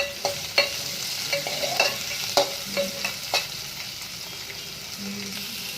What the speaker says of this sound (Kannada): 2 ಈರುಳ್ಳಿನ ಫ್ರೈ ಮಾಡ್ಕೊಂಬಿಡೋಣ ಎಣ್ಣೆಯಲ್ಲಿ